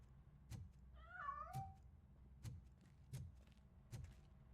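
A cat in the RoboCop Rogue City video game gives one drawn-out, wavering meow amid sharp, evenly spaced thuds, with no talking.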